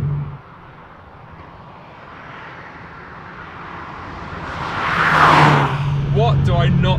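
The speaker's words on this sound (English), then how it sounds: "Listen to that, what a fantastic little engine." Alpine A110S sports car engine revving up, a rising engine note that swells to a loud peak near the end, heard from inside with steady road noise underneath.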